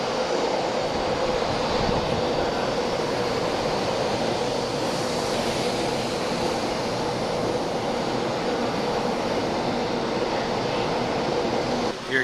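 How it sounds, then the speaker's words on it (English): A train arriving at a station platform: a continuous, even rumble and rush of rolling cars, steady and fairly loud throughout with no talk over it. "Here comes our train."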